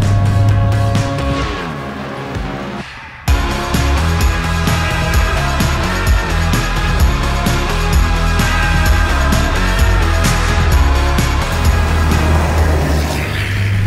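A Toyota Hilux pickup engine pulls hard on a rally stage, loud and close, with a brief dip as a gear changes before the revs climb again in a steady, rising drone.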